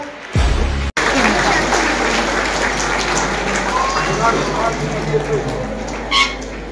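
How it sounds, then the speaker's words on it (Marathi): Crowd at a prize distribution ceremony applauding a professor receiving an award, loud continuous clapping across the hall with a low hum and some voices underneath. "प्रोफेसरांसाठी जरा विशेष जोरदार टाळ्या वाजवूया."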